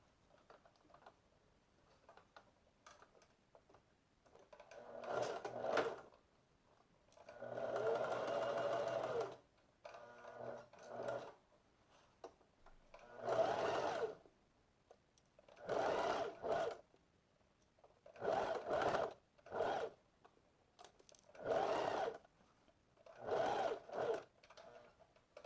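A sewing machine stitches the inseam of pleated shorts in a series of short and longer runs, starting and stopping between quiet pauses, close and fairly loud.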